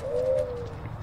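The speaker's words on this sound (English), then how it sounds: "Can you hear the pigeons?" A pigeon coos in the church setting of the horror video game Evil Nun: The Broken Mask, a single soft, clear, sustained coo, close and fairly loud, fading out within a second over a low background rumble.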